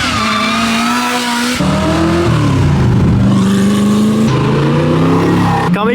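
Lamborghini Huracán Performante engine revving loudly near the start line of the Steeleford hill climb, deep harmonic revs rising and falling through several bursts, close and dominant, with no talk.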